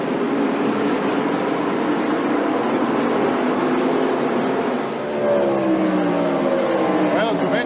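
NASCAR stock cars racing in the 1988 Goody's 500, the 88 and 25 battling for ninth, a steady loud engine drone with a brief dip and pitch shift as cars pass.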